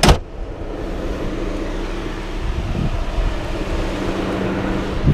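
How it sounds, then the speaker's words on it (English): BMW E65 745i from 2003 with its V8 engine at idle: a steady, low, smooth hum, even and continuous, with no knocks or shakes, heard alone with faint wind-like hiss. "just a calm V8 on idle"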